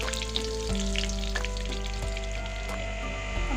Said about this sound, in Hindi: 4-5 मिनट एक साइड फ्राई होगा, 4-5 मिनट दूसरी साइड फ्राई होगा।